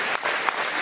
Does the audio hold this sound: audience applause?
yes